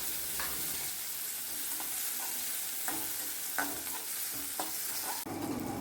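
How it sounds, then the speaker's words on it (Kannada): Chopped onions, tomatoes and green chilli sizzle in a mustard-seed tempering, a soft steady fry broken by sharp clicks and scrapes of a spoon stirring the pan, fairly quiet and with no speech. "ಚಾಪ್ ಮಾಡಿದಂಥ ಆನಿಯನ್ಸ್, ಟೊಮ್ಯಾಟೊ ಮತ್ತು ಗ್ರೀನ್ ಚಿಲ್ಲಿನ ಹಾಕಿ ಒಗ್ಗರಣೆ ಜೊತೆ ಮಿಕ್ಸ್ ಮಾಡಿ."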